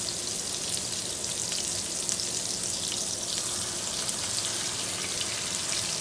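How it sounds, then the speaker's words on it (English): Burger patties fry in a hot pan, a steady broadband sizzle with fine crackles holding at an even level throughout, close and alone with no talking. "I'm going to cook each side for about 3 to 4 minutes, okay? On each side of my burger."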